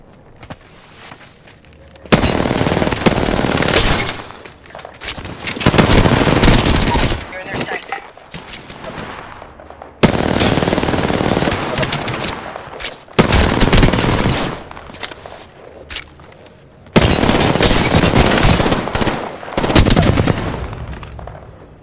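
Gunfire in the video game Apex Legends: several loud bursts of rapid automatic shots a few seconds long, separated by quieter gaps, with occasional heavier booms.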